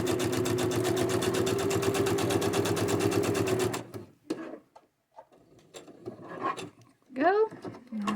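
A sewing machine stitching around the edges of paper cards for a vintage Christmas journal, a fast, steady mechanical whir lasting several seconds before stopping, followed by scattered handling clicks and a brief voice.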